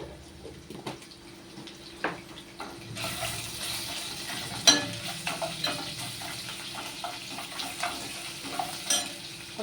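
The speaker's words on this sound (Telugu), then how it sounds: "ఎల్లిగడ్డ వేసినండి, అల్లం ఎల్లిగడ్డ." Garlic and ginger frying in a pan while a mango and bottle gourd moong dal dish is cooked, a steady close sizzle broken by stirring scrapes and small clatters, with no talking.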